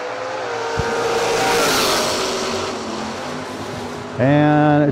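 At a bracket drag racing event, engines roar loudly down the strip with a sustained rising growl, then a harsh high-revving engine note cuts in near the end, all under an announcer's voice.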